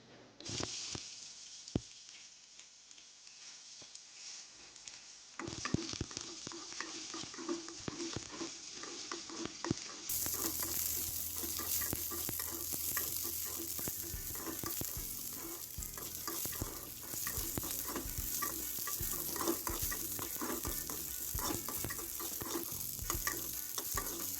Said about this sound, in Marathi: त्यामध्ये आपण कांदा फ्राय करून घेणार आहोत